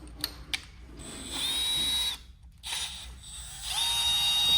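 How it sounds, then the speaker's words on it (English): A power drill whines as it spins a slightly bent intake valve from cylinder 4 of a 1969 Mercury Cougar XR7, in several bursts of steady high-pitched whirring with short pauses between them. "Give me a drill. I'll put it in a drill to show you."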